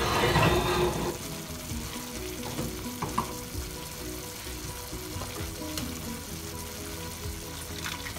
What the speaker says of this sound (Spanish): Le voy a agregar el caldo del elote para cubrir todo el pollo